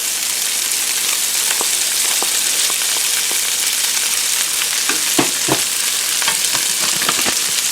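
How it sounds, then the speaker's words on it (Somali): Sliced chicken strips sizzle and crackle steadily in a hot pan, a dense frying hiss with occasional louder pops and stirring sounds, no talking. "hadda waxaan ku darsanayaa chicken strips aan jarjaray"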